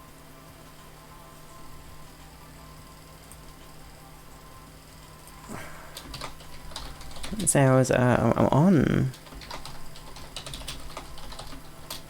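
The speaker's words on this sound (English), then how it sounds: "Excuse me for the typing, quickly." Typing on a computer keyboard during a live hangout stream, a short dense burst of clicking keystrokes near the mic under light background noise, with a few brief spoken words around it.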